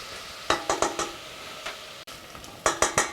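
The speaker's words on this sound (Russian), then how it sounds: "пока у нас это все слегка обжаривается, добавлю специи" Onion and garlic sizzling in a hot pan for pumpkin soup, with a series of sharp scraping and clinking strokes from a utensil being stirred through it.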